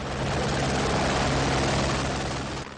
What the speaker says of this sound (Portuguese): O socorro a outras 4 vítimas veio de helicóptero.